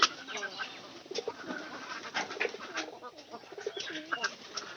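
Pigeons in a coop coo repeatedly, close and overlapping, with throaty rising and falling calls spread across the whole stretch and faint voices underneath.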